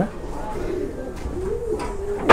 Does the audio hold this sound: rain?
no